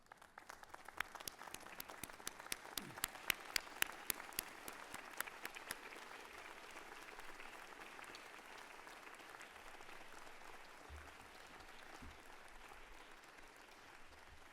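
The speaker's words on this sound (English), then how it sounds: "give them all a big round of applause, please." A large audience applauds at a university convocation ceremony, sharp claps at first settling into a sustained, even wash of clapping that continues steadily.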